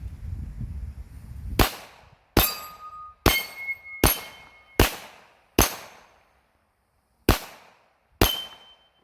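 .45 ACP pistol firing 230 grain lead round nose bullets at an outdoor range, eight sharp loud shots spaced about a second apart, with a short pause before the last two and faint ringing after several.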